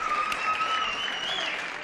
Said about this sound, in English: As soon as the red section stops cheering.